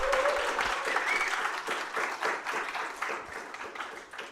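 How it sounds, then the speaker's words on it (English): Audience applause at a tech talk: a modest crowd claps in a brisk, fairly quiet burst of a few seconds, uneven and slightly fading. "Let's give them a round of applause."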